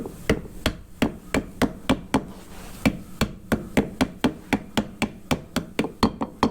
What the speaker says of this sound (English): Now I'm just going to tap this and set it in there.